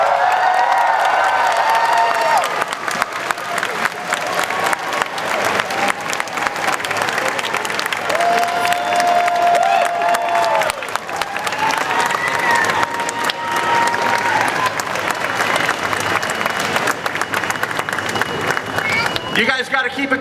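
Large convention crowd at ComicPalooza in Houston, Texas, roaring with sustained applause, cheers and whoops greeting Patrick Stewart, loud and continuous throughout with voices shouting in the mix.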